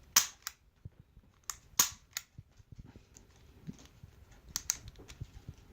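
Sharp, dry metallic clicks from double-action trigger pulls on a Sar Arms B6P Compact pistol, firing the hammer on an empty chamber. Clicks come in close pairs and single snaps, near and crisp, with quiet handling noise between them.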